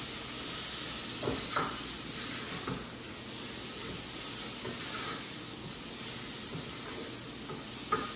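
A pot boiling on a kitchen stove during meal prep gives a steady, close bubbling hiss with a few soft clicks and knocks, with no talking.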